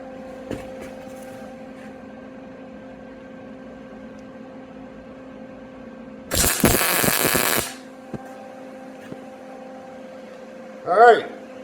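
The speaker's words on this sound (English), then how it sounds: "I'll turn on the welder." A MIG welder plug welding sheet metal, heard as a loud, dense crackling burst of about a second, standing out against a steady mechanical hum, followed later by a short sharp burst.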